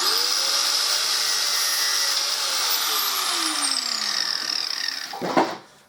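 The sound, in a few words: grinder cutting off a length of line from a reel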